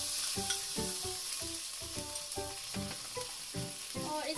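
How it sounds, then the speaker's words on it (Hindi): Ginger and garlic paste sizzles loudly in hot oil in a pan of arbi sabji after panch phoron spices, with a steady frying hiss and repeated rhythmic bursts of stirring scrapes, close and alone without talk. "डाल देंगे हम ये अदरक और लहसुन का पेस्ट"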